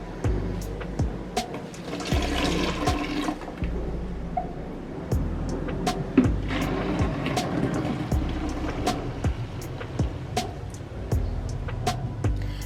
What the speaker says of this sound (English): I'm going to pour everything inside my pitcher.